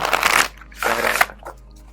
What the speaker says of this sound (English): I actually prefer to shuffle this way, just because it's easier for me to do the bridge.